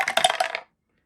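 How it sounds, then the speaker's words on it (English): Two dice rattle and tumble across a tabletop during a Falklands 1982 board wargame: a quick, close burst of clicking impacts lasting about half a second, then silence. "Straight on with rolling 2 dice."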